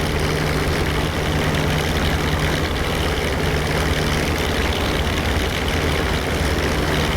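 Republic P-47 fighter's radial engine roaring steadily during a takeoff roll in the DCS flight simulator, a loud, continuous propeller drone without any speech.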